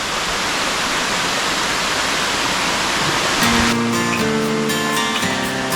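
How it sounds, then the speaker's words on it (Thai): A stream at the Rai Ya Yaem campsite in Kanchanaburi, Thailand, rushes with a steady, loud broadband hiss throughout, and tonal music joins over the water for the last couple of seconds. "มีลำธารให้เราแช่ด้วยฮะ"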